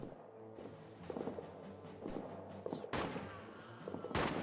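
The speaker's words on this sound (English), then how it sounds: "some people are firing bullets in our direction" Gunfire in a WWI trench warfare video game: scattered distant rifle shots and short bursts crack over a low background rumble, a few louder sharper reports standing out near the end.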